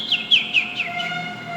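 A man imitates a bird chirping, giving a quick series of four or five high, bright tweets close to the microphone.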